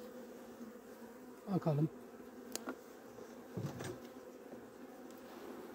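Honeybees buzz faintly around a combined hive with a laying worker colony and a queen, with a couple of short louder bursts, and a voice speaks briefly.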